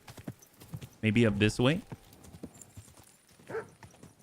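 A horse's hooves clop in a quick, steady rhythm during a dark night ride near a poacher's hideout in Kingdom Come: Deliverance II, close and moderately loud beneath someone speaking briefly twice.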